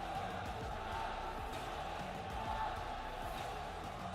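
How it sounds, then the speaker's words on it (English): Crowd at an esports tournament final chanting a player's name, a dense roar of many voices filling the hall, continuous and rhythmic at a distance, with commentary-like speech faintly mixed in. "And of course, the crowd chanting the fan favorite name, Soul."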